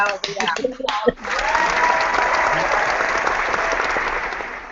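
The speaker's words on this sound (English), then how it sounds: "Come on, hit the applause button, Paul." Canned applause from an applause button during an online hangout. A brief burst of voice comes first, then a steady, full crowd-clapping effect carries on evenly to the end.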